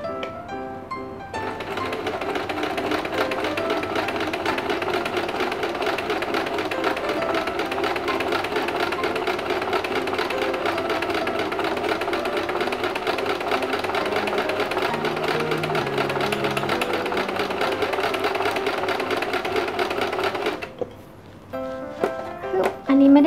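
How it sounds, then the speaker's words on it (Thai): A sewing machine runs a zigzag stitch in one steady, rapid mechanical chatter for about twenty seconds, close and even, then stops. "เดี๋ยวลองดูนี่ปรับเป็นเย็บซิกแซกแล้วนะ"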